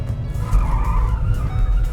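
A 2021 Hyundai Nios Turbo front-wheel-drive car slides through a corner, its tires squealing loudly and continuously over a low engine rumble, close by.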